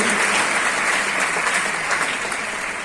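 A large audience applauds continuously at a Hindi poetry recital held for a film music release, dense clapping that stays loud and even for the whole stretch with no voices on top.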